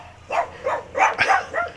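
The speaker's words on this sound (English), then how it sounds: "Here come the dogs again. I don't know who they're barking at this time." Dogs barking in short repeated bursts, four or five sharp barks at moderate distance in an outdoor setting during a fishing match.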